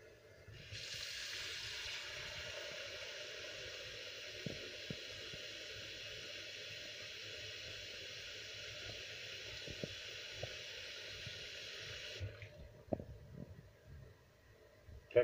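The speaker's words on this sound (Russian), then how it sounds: "Включаем горячую воду." Hot water gushing steadily from a tap in a Saint Petersburg apartment, a constant near hiss running about twelve seconds before cutting off, with faint knocks and handling noises underneath.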